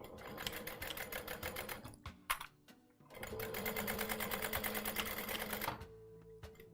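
A sewing machine runs in two long bursts of rapid, steady stitching on a fabric pouch, with a short pause and a few brief clicks between them. The sound is close and fairly quiet, and no voice is heard.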